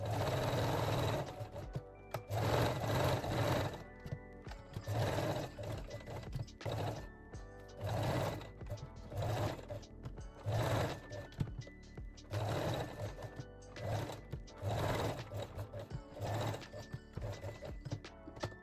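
Domestic sewing machine running straight stitch on a lace bralette in repeated short bursts, stopping and starting with brief pauses between runs, close and fairly quiet.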